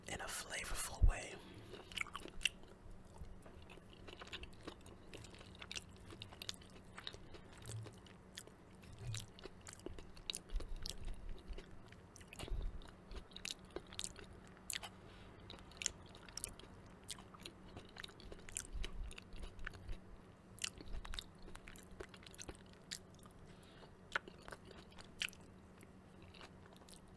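Homemade sweet potato curry being eaten close to the mic: soft wet chewing and bites with scattered little clicks and smacks repeat steadily, quiet and intimate, with faint whispered murmurs now and then.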